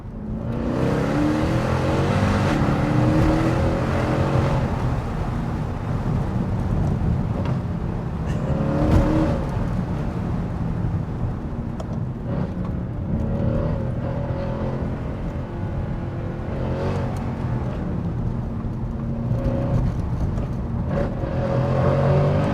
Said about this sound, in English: as soon as you want to open it up, switch it into manual and drop a couple of gears